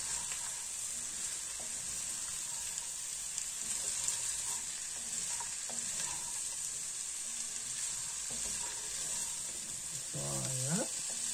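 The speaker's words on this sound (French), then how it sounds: "on mélange bien" Winter-vegetable ratatouille is stirred in a hot pan, a soft steady sizzle with occasional scraping under a constant high hiss, and a brief voice near the end.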